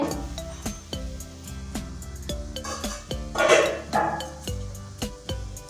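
A metal pan lid clinks several times while a semolina breakfast dish cooks on the stove, sharp close taps in an irregular rhythm over a faint sizzle, with no talk.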